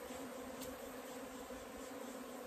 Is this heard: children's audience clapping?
no